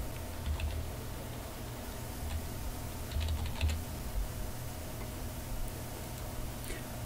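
Keys tapped on a computer keyboard while entering a place name into an address search field, a soft irregular patter of clicks heard up close over a steady low hum.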